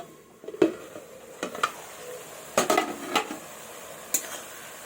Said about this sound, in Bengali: ঢাকাটা এবার তুলে নেবো